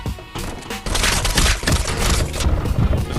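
Rapid MAC-10 gunfire in a video game crackles in a dense, continuous burst that swells after a quieter opening, loud and close with a harsh, splintery edge.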